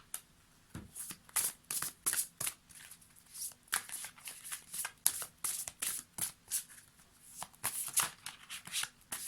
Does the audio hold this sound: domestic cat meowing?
no